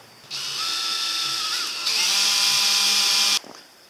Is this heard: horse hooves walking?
no